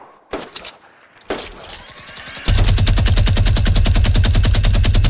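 Gunfire in a game: a few sharp isolated shots, then sustained loud rapid automatic fire in a tight, even rhythm that runs to the end, with no speech.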